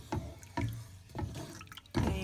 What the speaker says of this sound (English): That was 1 cup of water, and then this is the second one going in.